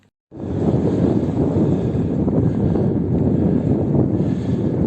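Strong wind roars and buffets the microphone on a 700-metre mountain in Morocco after a brief quiet start, a continuous loud rumble with no voices.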